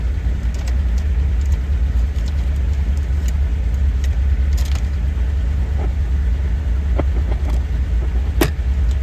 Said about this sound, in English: Sounds like we still have a little action, but heater or blower motor.